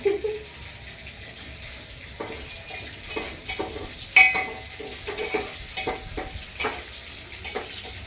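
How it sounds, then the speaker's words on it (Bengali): Green jackfruit (echor) frying in a pan, a soft continuous sizzle under intermittent stirring and scraping noises, moderately close. "আমার এঁচোড়টা একটু ভালো ভাজা হোক"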